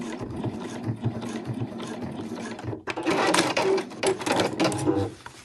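A sewing machine stitches a pom-pom cushion cover, whirring steadily at first, then surging into a louder, faster buzzing run of stitches up close, with no voices.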